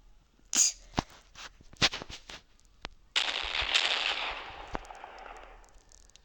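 Gunfire in a shooter video game, with an AK-47, P250 and other weapons in play: a few sharp, scattered shots are followed by a longer rushing burst that slowly fades.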